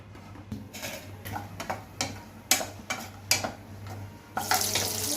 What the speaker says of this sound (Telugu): ధనియాలు, జీలకర్ర, వేరుశనగపప్పు వీటిని వేయించుకుందామండి